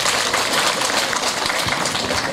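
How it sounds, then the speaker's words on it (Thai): Brief, dense burst of crowd clapping at a Thai check-weir opening ceremony in Ban Khok, Lopburi, steady and fairly loud throughout its short span. "ขอเสียงปรบมือสักครั้งครับ"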